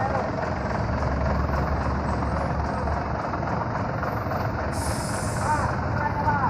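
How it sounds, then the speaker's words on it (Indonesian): Sempati Star Patas VIP Scania K360 bus with Adi Putro body, just arrived from Medan, idling with a steady low engine rumble close by, while people talk over it throughout. "ini tiba dari Medan bus Spatistar Patas VIP Scania K360"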